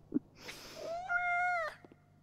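A cat in the video game Life Is Strange: Double Exposure gives a single drawn-out, clear meow, close and fairly quiet, after a small tap, with no talking.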